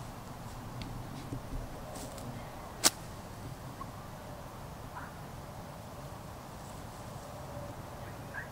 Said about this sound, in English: I'm gonna hit a little 8-iron.